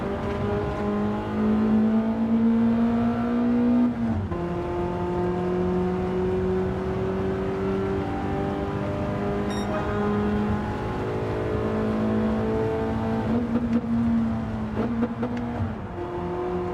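Race car engines in Gran Turismo 7, a steady loud drone rising and dipping through gear changes, with brief lifts and other cars faintly audible around it.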